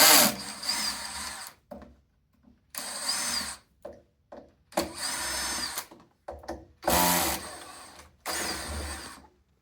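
A Phillips screw gun whirs in repeated short bursts while backing out perimeter screws on an R3 R3X motor board housing, loud and close, with brief quiet gaps between each screw and no talking.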